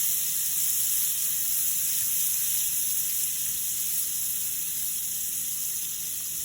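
Onions and garlic sauté in hot oil in a pan, giving a steady, dense sizzle and hiss that runs unbroken and close without any talking.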